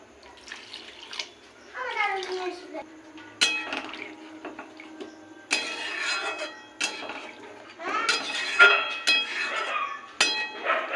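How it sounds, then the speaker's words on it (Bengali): Water is poured into a pan of simmering chhena curry whose spices have been fried in oil, giving irregular splashing and gurgling bursts with a few light metallic clinks against the pan. "এবার দিয়ে দেবো জল, ও পরিমাণ মতো জল।"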